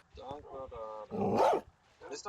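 A Minecraft dog gives a few short barks and yips, close and clear, closely followed by a brief whimper.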